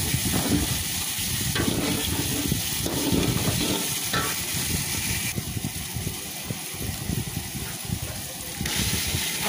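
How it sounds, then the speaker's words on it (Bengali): Chicken fried rice being stirred and fried in a pan, with a steady loud sizzle and scraping stir strokes running throughout, close up and without talk. "নেড়ে চেড়ে ভেজে নিতে হবে, তা নাহলে তলে লেগে যাবে।"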